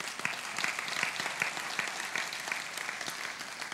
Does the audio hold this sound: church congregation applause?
yes